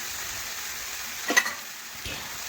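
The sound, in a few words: stirring and spreading mushrooms frying in a pan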